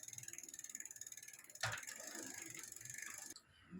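A bicycle freewheel is tightened during a repair. A rapid, even ratcheting click rattles close up for over a second, then a louder metallic clunk and grinding rub follow before the sound cuts off.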